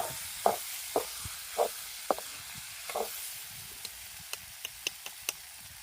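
Brinjal curry cooking in a pot on a wood-fired chulha stove by a riverside, with a soft steady sizzle under a string of sharp crackles and pops from the fire, spaced irregularly and close by.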